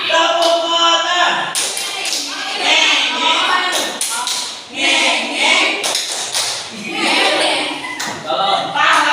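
A classroom group performs the 'tepuk motor' clapping routine, sharp rhythmic claps in bursts mixed with loud chanting voices and shouts.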